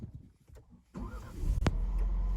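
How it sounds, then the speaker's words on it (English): A 2021 Ford Bronco fitted with a Bestop TrekTop cranks briefly and starts, settling into a low, steady idle close by after some faint handling sounds, with no voices. "Let's take this thing for a drive, see how quiet it is."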